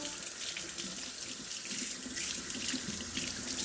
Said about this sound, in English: we're just going to give them a quick wash like so.